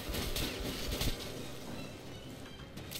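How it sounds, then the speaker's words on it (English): A speeding train in the video game Metro Last Light gives a loud, continuous broadband rumble and rattle, with several sharper clanks over the steady roar. "But, yeah, we're on a speeding train."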